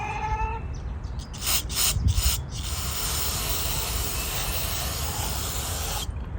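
A few short bursts of aerosol cleaner hiss close by into the carburetor of an Echo SRM2400 trimmer, then a steady hissing spray continues for several seconds.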